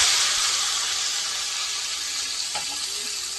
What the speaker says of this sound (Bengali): শাক ভাজছে, কলমি শাক।